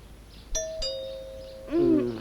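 A doorbell chimes twice in quick succession, clear tones ringing out, followed by a lower, warbling chime that swells and fades.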